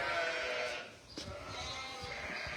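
Sheep bleat on a farm, a couple of wavering calls rising over a quiet background, fairly faint and a little distant.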